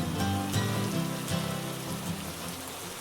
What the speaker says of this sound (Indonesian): Hujan yang tadinya reda, kini turun lagi ketika kami hendak memulai pendakian.